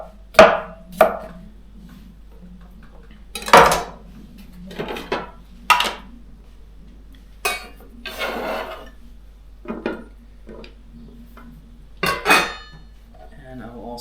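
A knife chops cucumber on a cutting board in sparse, uneven strokes, sharp close knocks with brief scraping between them over a low steady hum, and no one speaks.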